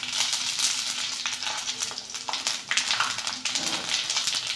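Cumin and pepper frying in hot oil for kaara pongal, a loud, continuous sizzle with dense crackling and spitting that holds steady throughout, no voices over it.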